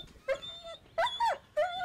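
A dog whimpers close by in three short, high, wavering whines separated by brief pauses.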